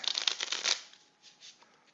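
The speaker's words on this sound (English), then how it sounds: "We're going to shuffle again." Deck of game cards for a WW2 tactical squad combat card game being shuffled: a quick, close riffle of rapid flicking clicks for under a second, then a few softer card taps and settling sounds.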